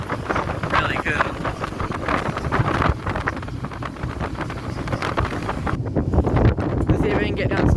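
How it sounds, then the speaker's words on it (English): Strong wind buffets the microphone on the deck of a 4th generation CityCat double decker ferry, a steady loud roar with gusting surges, overlaid by people talking. "when it's really windy"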